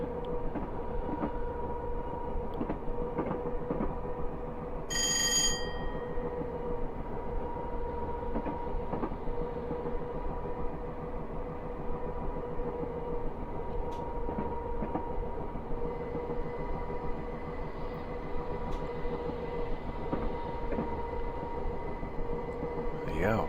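Class 423 4-VEP electric multiple unit running in Train Simulator Classic on the Tonbridge to Hastings line, with a steady rail rumble, rhythmic wheel clatter over joints and a continuous motor drone, plus a brief high electronic chime early on.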